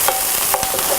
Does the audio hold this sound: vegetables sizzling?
yes